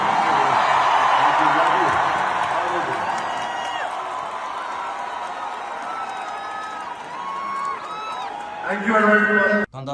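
A live-show crowd applauds and cheers for a Punjabi rapper, a broad wash of clapping that is loudest at first and gradually thins, with a voice and music breaking in near the end.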